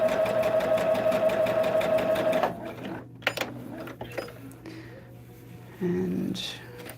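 A sewing machine stitches a log cabin hexagon quilt table topper, giving a steady, rapid, close mechanical whir for about two and a half seconds. It then stops, and soft fabric handling and light clicks follow.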